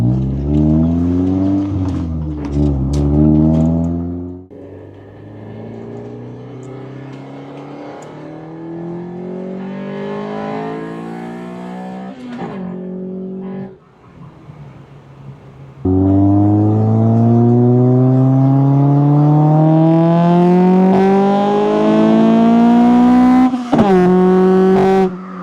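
An Acura Integra with a REVEL Medallion exhaust driving, engine revving up through gears with rising tones, brief shifts and a lull, then a loud sustained pull, heard close from inside.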